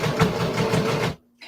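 A home sewing machine runs in a steady mechanical whir with a rhythmic stitching pulse, then cuts out briefly before starting again.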